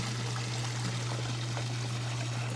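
Water pouring steadily from a running pump's outlet in freezing weather, a constant close trickling stream over a strong low steady hum.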